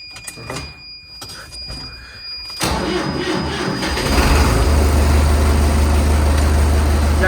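An MTZ tractor diesel engine is cranked and starts partway through, then settles into a loud, steady, close-up idle with a deep low rumble. Faint tones and shuffling come before the start.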